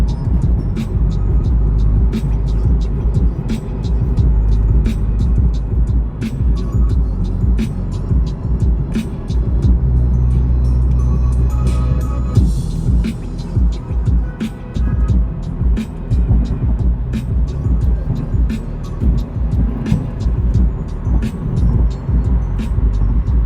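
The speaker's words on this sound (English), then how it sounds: "how much ambient noise there is in the cabin next to the road noise" Steady low road rumble heard from inside a moving 2020 Subaru WRX at highway speed, a constant droning hum that stays loud throughout.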